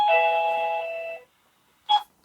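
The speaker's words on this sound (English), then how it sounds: "So we press the doorbell," A Tmezon intercom doorbell rings with a loud, clear electronic chime that holds steady for about a second, falls silent, then gives one short follow-up tone.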